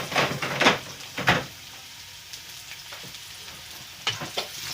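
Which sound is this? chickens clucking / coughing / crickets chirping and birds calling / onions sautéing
onions sautéing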